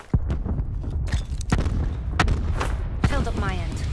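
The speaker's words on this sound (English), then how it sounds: "Bombarded him with frags" Frag grenades burst in a video game shooter, several loud booming thuds in quick succession among gunfire-like impacts, with players talking over the blasts.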